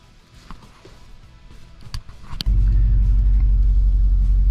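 A vehicle with a 4L60E transmission drives on the road, its faint early rumble and a few knocks giving way to a loud, steady low engine and road drone.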